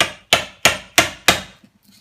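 A hammer strikes a boot fitted on a shoe last during shoe repair: five sharp, loud blows land at an even pace about a third of a second apart, each ringing briefly before a quiet pause.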